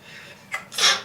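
A parrot sneezes, a short sharp hissy burst followed by a louder breathy one, close and alone.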